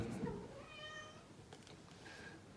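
A house cat meows at an indoor unboxing, a single drawn-out call of moderate loudness with a second, fainter mew near the end.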